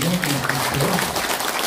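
Audience applause at a Korean lecture and Q&A session, a steady wash of clapping over the full stretch, with a voice talking over it.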